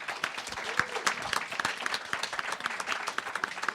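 An audience at a panel discussion applauds the panelists steadily, many hands clapping in a dense, even patter that holds throughout without voices.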